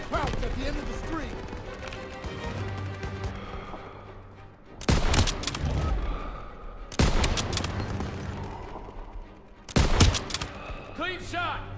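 Rapid bursts of gunfire and explosions in the Call of Duty: WWII Stronghold game, three loud volleys arriving in waves over a continuous battle ambience, with voices talking throughout.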